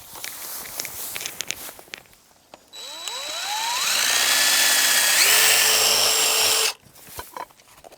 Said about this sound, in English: we're gonna take a drill bit and actually drill a hole in the rock